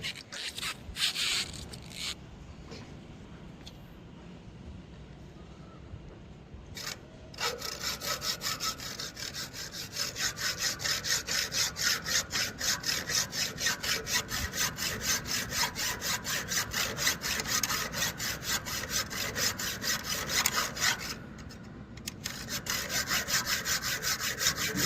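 Steady rasping strokes of a hand file on a worn metal eye bolt clamped rigid during rail yard examination, continuous rhythmic scraping that grows louder and faster after a brief pause, with no voices.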